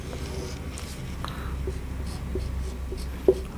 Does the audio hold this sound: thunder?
no